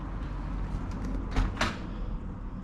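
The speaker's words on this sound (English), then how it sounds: "Different door to what we normally have." A caravan door on a 24-volt off-grid urban caravan being opened, heard as a muffled latch knock and a couple of brief bumps and rattles over a steady low hum, fairly close.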